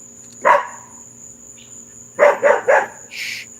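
A dog barks behind a fence, one bark and then a quick burst of three more, loud and fairly close, over a steady background of crickets chirping.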